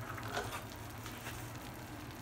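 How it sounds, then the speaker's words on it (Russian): A freshly baked lasagna, just out of the oven, gives off a faint, steady sizzle and crackle, quiet and close with no talking. "как шипит еще"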